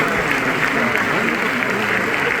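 An audience applauds at the Cannes 2025 premiere of Magellan in a dense, steady wash of clapping. It is loud and close, and a voice can be heard faintly underneath.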